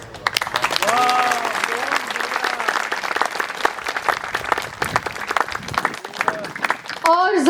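Audience applause at a cultural festival programme, a loud burst of clapping that carries on throughout, with a singing voice over the opening and a voice speaking over it toward the end.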